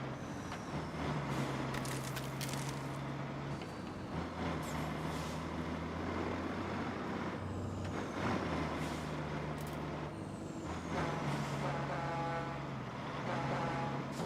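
A dump truck in the driving game RoadCraft, its engine droning in low steady tones that rise and fall with gear changes, with hissing air-brake releases and passing traffic noise around it.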